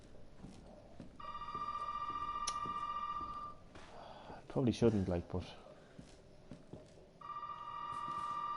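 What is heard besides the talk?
telephone ringing in video game Resident Evil 7 demo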